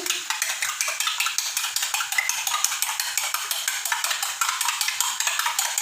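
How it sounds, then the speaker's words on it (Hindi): Eggs seasoned with black pepper and salt are beaten briskly in a bowl, a fast, even run of metallic clinks and scrapes that goes on without a break, close and fairly loud. "थोड़ी सी काली मिर्च और नमक हम अंडों में ऐड कर देंगे और इसको अच्छे तरीके से फेंट लेंगे"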